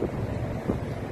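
Wind rumbles across the microphone at the port of Den Helder, Netherlands, in a steady, low buffeting roar, with no voices present.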